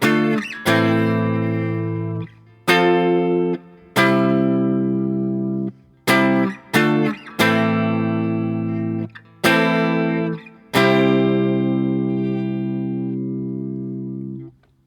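Electric guitar strumming the chords of a song, about nine sustained chords struck one after another with a few brief gaps, each ringing out loud and clear, played alone without talk.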